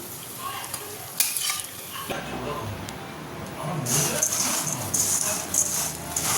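Steady sizzling of lentil fritters frying in a pan, with occasional stirring and utensil clinks, growing louder toward the end.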